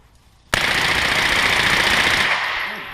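A machine gun fires a continuous burst of about 25 rounds in under two seconds, a loud, dense roar that starts abruptly and then trails off into echo.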